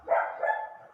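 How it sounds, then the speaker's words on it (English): A dog in the Dying Light 2 Stay Human video game barks twice in quick succession, loud and fairly close, with no talk over it. "pardon the barking dog"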